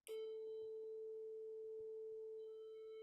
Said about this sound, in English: If I play a tone here with my phone around 400 or 500 hertz